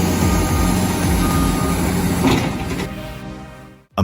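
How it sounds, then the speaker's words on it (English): A massive tow truck backs up awkwardly on a road, its reversing alarm beeping in a loud, regular series over the diesel engine's drone, then cutting out near the end. "A massive tow truck was blocking the road, awkwardly trying to back up in hopes of escaping a tough spot."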